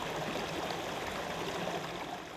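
A forest river or stream, the Millstone River where coho salmon return, rushes and gurgles in a steady, fairly loud wash of flowing water, continuous and close with no voices.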